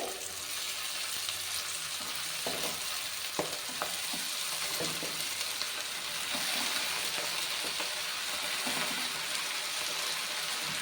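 Mixed leafy greens fry in a pan for a soppina palya, giving a steady close sizzle with scattered crackles and light stirring clicks throughout, no voices.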